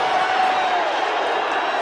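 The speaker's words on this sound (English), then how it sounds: "You watch the crowd get up now." Stadium crowd at a 1980 Saints versus 49ers football game, a loud broad roar of cheering sustained throughout with no break.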